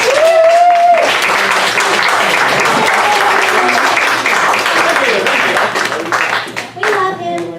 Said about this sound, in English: I want you to give a big round of applause to the amazing Johnny